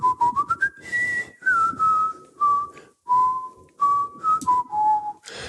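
One person whistles a short Bach melody, clear and close, in a series of phrases with brief pauses between notes.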